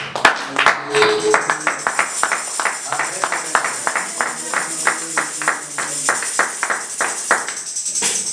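A church congregation claps and cheers in praise of the Lord, a dense run of rhythmic handclaps with voices mixed in, steady and fairly loud from start to finish.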